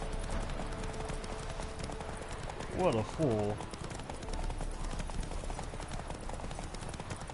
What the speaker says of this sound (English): What's a random horse in the middle of the racetrack?